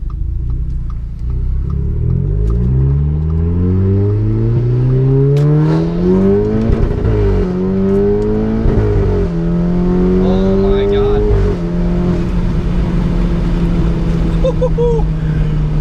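A turbocharged four-cylinder Audi A4 with a K04 turbo and methanol injection, about 330 wheel horsepower, revs up hard through the gears, pitch climbing steadily with brief dips at each shift, loud and close with a rough rumbling tone.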